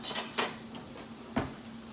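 A small tester patty of country pâté cooking in a dry pan gives a soft, steady sizzle, with two or three sharp metallic clinks of a utensil against the pan standing out close by.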